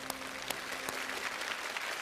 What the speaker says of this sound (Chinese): 请大家把掌声送给 C919背后的每一位无名英雄